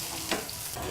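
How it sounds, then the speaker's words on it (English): Gnocchi searing in a hot pan give a steady, close sizzle with a brief louder stir or pan scrape partway through, with no talking. "So we'll just let those sear up nice and brown"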